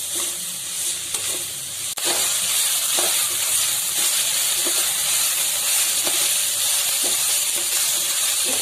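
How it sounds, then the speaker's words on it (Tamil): Mixed vegetables for Schezwan fried rice sauté over a high flame, giving a steady loud sizzle and hiss with faint scraping stir strokes, and no talk over it. "நல்லா ஹை ஃப்ளேம்ல வச்சு வதக்கின்றலாம்."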